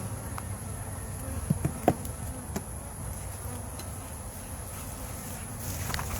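Honey bees buzz steadily around a hive, a continuous low drone with a few louder passes close by, and no voices over it.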